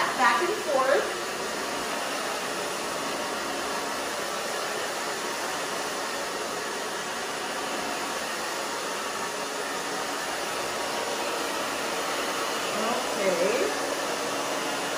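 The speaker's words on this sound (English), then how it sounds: "Now I'm going to dry that back and forth." A hair dryer blows steadily as a short bob haircut is dried back and forth, giving a loud, continuous close-up whoosh that lasts the whole stretch, with a brief spoken word near the start.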